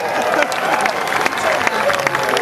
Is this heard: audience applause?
yes